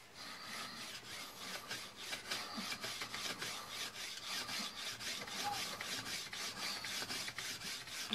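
A wooden friction fire saw rasps back and forth over a notched piece of wood, a rapid, even series of scraping strokes heard up close and fairly faint, with no talking.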